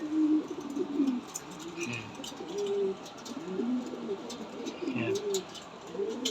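Hens in a backyard coop give soft, repeated cooing and clucking calls throughout, fairly close, with someone speaking briefly over them.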